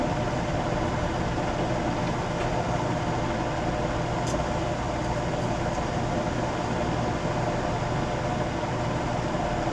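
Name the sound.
air conditioning unit motor compressor running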